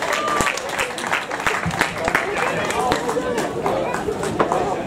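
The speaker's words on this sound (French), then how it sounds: "vos applaudissements pour Robin et Clara" Audience applause at an outdoor podium ceremony for a 10 km road race in Echirolles, steady dense clapping with scattered sharp claps and crowd murmur throughout.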